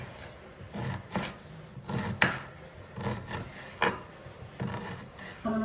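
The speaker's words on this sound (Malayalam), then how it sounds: "നമ്മൾ ഈ സലാഡിന് വേണ്ടിയിട്ട് അരിയാണ് കേട്ടോ" A knife chops vegetables for a salad in a home kitchen, producing about seven distinct, uneven chopping strokes, faint and close, with no talk.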